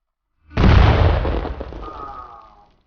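A single loud video-game explosion from Shattered Skies bursts in and rumbles on for about two seconds, fading out with a faint ringing tone near the end; no voices.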